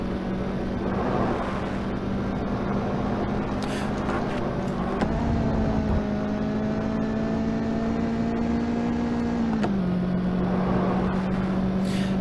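A car engine in the 3DO racing game The Need for Speed drones steadily, its pitch climbing, dropping sharply at each gear change and rising again, loud and continuous throughout.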